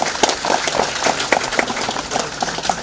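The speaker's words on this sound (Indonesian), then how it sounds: "Mari kita tepuk tangan." A congregation applauds at the inauguration of a church regional council office. The claps are uneven and come in scattered bursts, moderately loud, and continue throughout.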